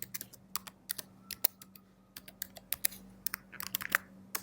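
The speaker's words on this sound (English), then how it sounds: "we need to type our new password" Fingers type a password on a computer keyboard, quick irregular key clicks close and fairly quiet with short pauses, no talking.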